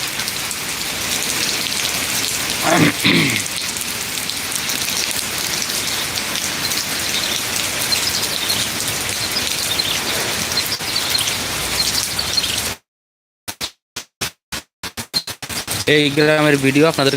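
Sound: heavy rain in a Malaysian village

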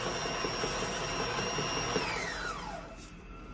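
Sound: stand mixer beating cake batter

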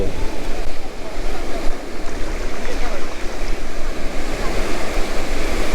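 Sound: sea waves roaring at Golden Beach, Puri

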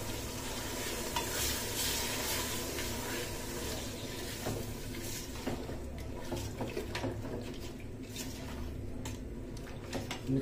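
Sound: stirring and frying mutton in pot for biryani

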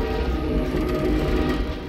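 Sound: train riding on rails in the video game Half-Life 2

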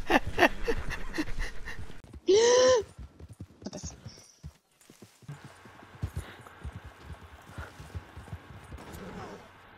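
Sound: horse galloping in a video game

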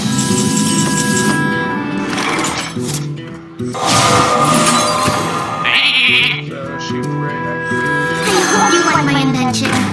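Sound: sheep bleating in Hearthstone video game

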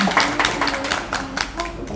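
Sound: audience applause at press conference

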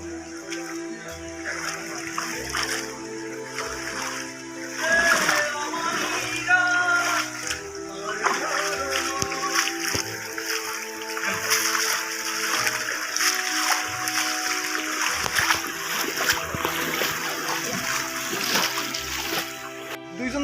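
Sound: water of a rocky hill stream (jhiri) splashing

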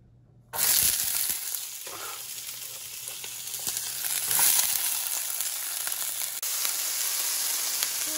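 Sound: sautéing vegetables in olive oil

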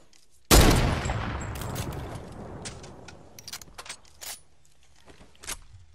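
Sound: gunfire in the video game Fortnite

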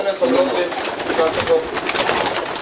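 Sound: pigeons cooing near loft

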